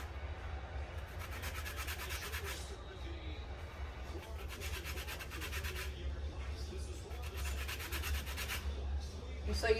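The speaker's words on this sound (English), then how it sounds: "when you're doing lemon zest, you just want to zest it like, here's the rind" Lemon rind scraped with a zester in a kitchen gives repeated raspy strokes in uneven bursts, close and fairly soft over a low hum, with a person talking in between.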